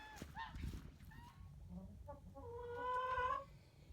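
Nearby chickens cluck and squawk in short bursts, ending in a longer, louder drawn-out call; faint movement noises underneath.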